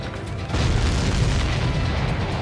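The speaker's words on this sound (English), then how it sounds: "Missile launched." A missile launches in the Ace Combat 7 flight game with a sudden deep roaring boom that swells and holds as a dense, rumbling blast through the rest of the moment.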